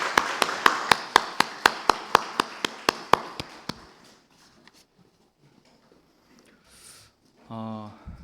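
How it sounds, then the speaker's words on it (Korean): A church congregation claps in a steady rhythm of about fifteen sharp, even beats that stop abruptly, followed by quiet room sound and a brief tonal sound at the end. "하나님께 영광의 박수를 드립니다."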